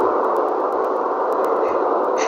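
White noise ambience track for sleep: a steady, even hiss that stays constant and fairly loud across the whole stretch, with no voices.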